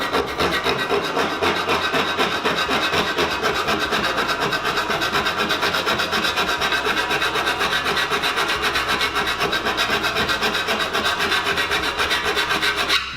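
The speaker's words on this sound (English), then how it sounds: "We're going to do this using our file and using a bit of the old hand action." Continuous rhythmic rasping of a hand file working the lips off a 4 mm metal tray, even back-and-forth strokes, loud and close with no pauses.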